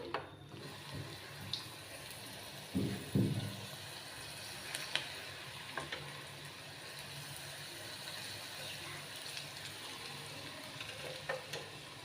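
Okra (bhindi) frying in hot oil for crispy fries, a faint steady sizzle with a few soft clatters and stirring knocks near the start, quiet and continuous with no talk.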